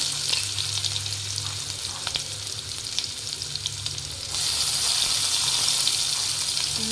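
Onion fries with cumin in hot oil, a steady close sizzle that swells louder partway through as more goes into the pan, with no talking.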